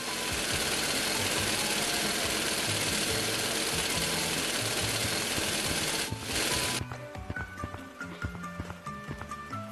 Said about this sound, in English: It actually feels like I'm drilling into it.